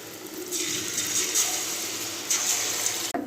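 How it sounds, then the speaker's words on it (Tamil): Bonda batter sizzles and bubbles in hot oil, a steady hissing fry that swells in loudness as pieces are dropped in, with no talking. "போண்டா போட்டுக்கலாங்க. எண்ணெய் காஞ்சிருச்சு."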